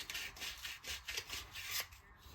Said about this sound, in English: I'm just going to take a piece of sandpaper here and just kind of hit that edge a little